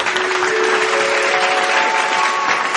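A crowd claps loudly and continuously in welcome for a singer at a prayer stage program, a bright dense wash of applause with a faint tonal hum running underneath.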